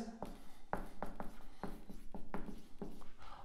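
A marker writes a sentence on a classroom board during an English grammar lesson, producing a run of short, close squeaky strokes and taps in an irregular rhythm with no talk.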